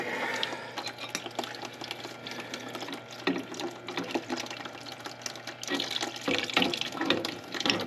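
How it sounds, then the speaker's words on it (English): Water flows and gurgles through a small ball valve on a neglected, muddy steam boiler, a close, irregular splashing rush with sputters and bursts, no talk. "There's a little ball valve. So I'm making open and close."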